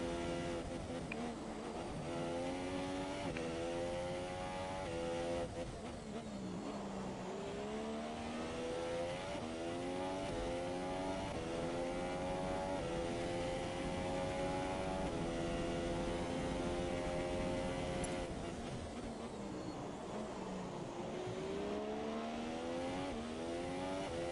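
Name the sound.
Force India Formula 1 car engine in video game F1 2017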